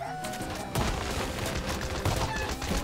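Shotgun fire in the battle royale video game POBG, a couple of sharp booming blasts over a dense layer of game sound.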